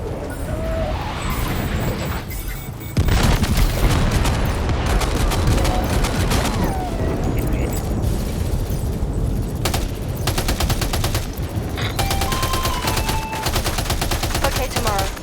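Weapons gunfire in the video game Death Stranding 2: On the Beach, a dense, continuous barrage of shots and impacts that grows louder after a few seconds and keeps rattling throughout, with mechanical clatter mixed in.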